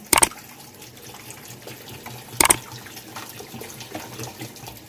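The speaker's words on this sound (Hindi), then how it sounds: "अब मैं इसमें पानी डालूँगी।" Water poured into a pot of mutton karahi cooking with tomato, onion and garlic masala, heard as two short splashy bursts over a low, steady background.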